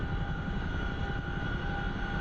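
A CH-47F Chinook helicopter engine running in the DCS flight simulator, a steady, loud, unbroken turbine drone with a sustained whine above a deep rumble, continuous and even for the whole stretch.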